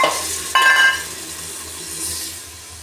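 Water poured into spiced potatoes frying in a pan makes a sudden sharp hiss, then a softer sizzle and a stirring scrape that fades gradually.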